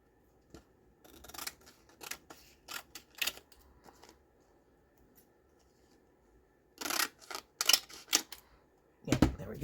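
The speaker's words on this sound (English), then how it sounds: "I'm just gonna cut off the excess here." Scissors snip off excess paper from a paper frame in a papercraft folio project, a few short crisp cuts in bursts with quiet pauses between, close up, no talking.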